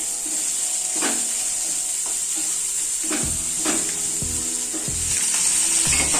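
Onions frying with salt in a pan give off a steady broadband sizzle. Several short stirring scrapes and clinks break through over the 6 seconds, and no one speaks.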